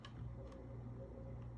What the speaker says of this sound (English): Replacement part for the fuse. That's going to click in there.